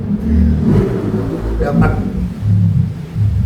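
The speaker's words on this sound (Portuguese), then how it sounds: "Uma moto passando." A motorcycle passing outside, its engine a low, swelling rumble that rises and fades over a few seconds beneath ongoing talking.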